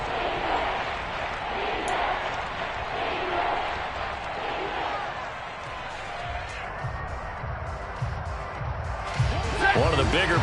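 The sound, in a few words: football stadium crowd cheering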